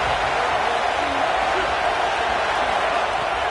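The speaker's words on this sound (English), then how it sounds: "Listen to this crowd just shaking the girders of this place trying to help their defense" Stadium crowd at a college football game roaring steadily to rally the home defense, a dense, continuous wall of cheering noise with no breaks across the whole stretch.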